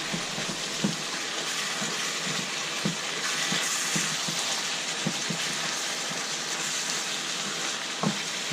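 Ground meat for picadillo browning in a pan, a steady soft sizzle and crackle with occasional spatula scrapes and taps, heard close and alone with no talking.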